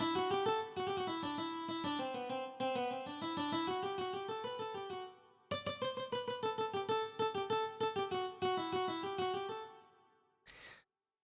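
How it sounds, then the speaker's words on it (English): A lilting folk tune on whistle and fiddle, a flowing phrase followed by a bouncier, rhythmic passage, ending with a brief breath-like noise. "I joined them all together to make this one big long folk melody that kind of sounds like this"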